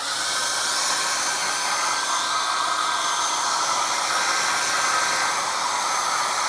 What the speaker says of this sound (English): I'm going to heat mine up with the hair dryer